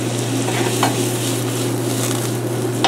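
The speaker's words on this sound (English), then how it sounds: "We're going to stir. We're going to let those keep cooking down." Vegetables sauté in a pan with salt and granulated garlic while being stirred, a steady close sizzle with a low hum beneath and a couple of brief scraping stirs, no voices.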